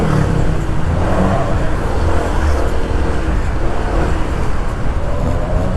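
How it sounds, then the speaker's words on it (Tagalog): Dense road traffic with cars on a congested route toward Gilmore and Ortigas, a loud, steady engine and tyre rumble that fills the whole stretch without a break. "Ang traffic dito, boy."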